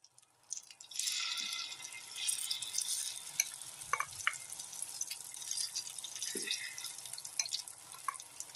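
Appe batter sizzles in a greased appe pan for a fasting-style appe recipe, a steady close crackle running throughout with a few soft drips and light clinks, no voices.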